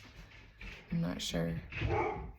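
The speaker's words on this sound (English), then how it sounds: "Oh, excuse my dog." A pet dog barking indoors, a few short barks heard under and between a person's talking.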